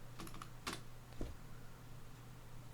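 A computer keyboard clacks under the fingers of someone working in Photoshop, with a short burst of a few quick keystrokes near the start. Quiet room hum fills the rest, and no one speaks.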